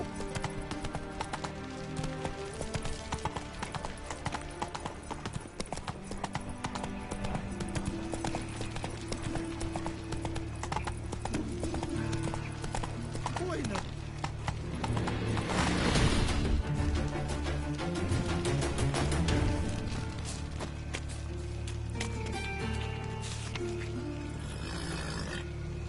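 Hooves clip-clop in a steady galloping rhythm from a horse in a video game, with game music and effects layered underneath, swelling louder briefly mid-way before settling back.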